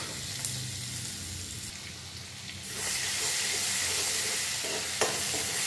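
Ginger-garlic-chili paste with turmeric and asafoetida fries in a pan, giving a steady close sizzle that swells into louder hissing partway through, with occasional spoon stirs and a sharp clink near the end.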